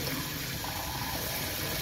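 Water runs steadily from a faucet in a Grand Design Momentum 21G RV while air is purged from the lines, a constant soft hiss and rush with no talk over it.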